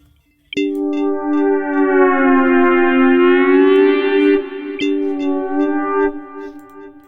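Synth keys for Amapiano production hold a sustained chord whose pitch slowly wavers up and down with an oscillating effect, loud and alone, ringing for several seconds before fading.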